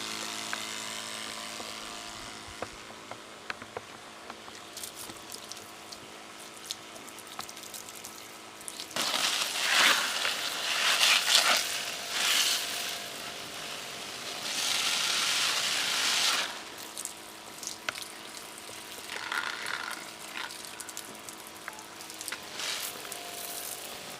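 Small single-motor DC water pump running and pushing water through a hose, a low steady motor hum, then a louder hissing, splashing rush of water for several seconds that eases back toward the hum.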